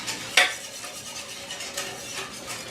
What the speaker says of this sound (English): let me stir all this in